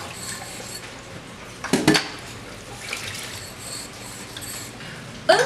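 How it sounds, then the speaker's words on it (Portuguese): Dishes and a glass being scrubbed by hand in a sink of water: soft wet rubbing and sloshing with a few sharp clinks of crockery, fairly quiet and close, with no talking. "Então vamos esfregar aqui nessa água"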